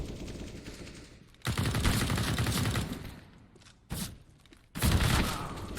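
Bursts of rifle fire from an SG rifle in a Counter-Strike esports match, heard in three loud, dense volleys separated by quieter gaps, with no talk over them.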